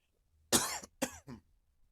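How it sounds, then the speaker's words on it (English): A short, raspy throat clearing in three quick bursts, close and fairly loud, with silence around it. "had to clear my throat a little"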